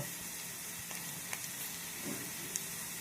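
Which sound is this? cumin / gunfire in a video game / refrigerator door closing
cumin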